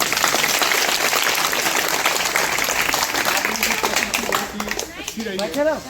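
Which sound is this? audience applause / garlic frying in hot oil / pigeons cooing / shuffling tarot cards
audience applause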